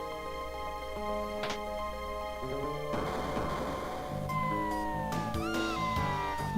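A cat meows in the video game Chrono Trigger, its voice rising and falling in short wavering calls over steady, tonal game music that plays throughout.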